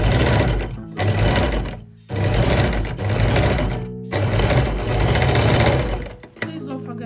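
A sewing machine stitching a cargo pocket, running loud and close in four long bursts of rapid stitching separated by short pauses, ending with a clunk and some handling.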